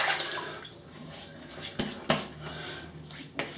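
Water splashing and dripping near a sink as a face is wetted before a wet shave, with a few brief clatters and sharper splashes over a low running-water wash, close and moderately quiet.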